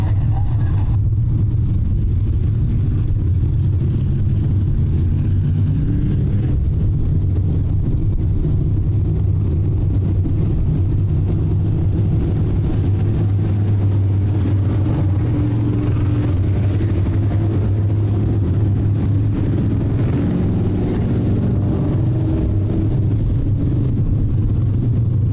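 Stock cars racing around an oval track at a weekly series memorial event produce a continuous loud engine roar and drone that rises and falls as the field circulates, with no break for the full stretch.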